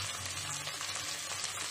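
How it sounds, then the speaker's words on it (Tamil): Onions with a handful of mint fry in a pan for mutton biryani, giving a quiet, even sizzle that holds steady throughout, close by and without voices. "வெங்காயம் வதங்கட்டும்"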